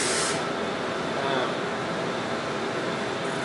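A Blade Nano CPX collective-pitch RC helicopter running close by, a constant loud airy whirring hiss with no breaks throughout.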